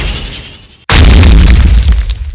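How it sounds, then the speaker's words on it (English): A castle in a block-built video game detonates after its crystal is struck, its remaining blocks crumbling to dust: a sudden loud boom after near silence, followed by a sustained roaring, crackling rumble that slowly fades. "once you hit the crystal that the castle will detonate. Basically, all remaining blocks turn into dust"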